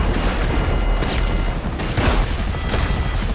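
A helicopter firing rockets at enemies on a skyscraper in GTA 5, with repeated booming blasts and explosions over a constant rotor and engine roar, the loudest impacts landing near the middle of the clip.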